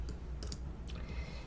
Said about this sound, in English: Again, I'm pushing D on my keyboard